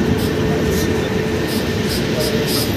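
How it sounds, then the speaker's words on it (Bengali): Howrah Mumbai Mail train arriving at Durgapur station, a continuous loud rumble of the moving train with rhythmic clacking of wheels, heard close from the platform with voices faintly underneath. "চলে এসছে আমাদের ট্রেন"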